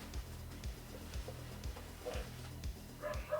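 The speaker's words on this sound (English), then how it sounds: "Sorry about the barking." A dog barks faintly and steadily in the background, with a regular run of muffled low woofs about every half second, distant and quiet under a hum of room noise.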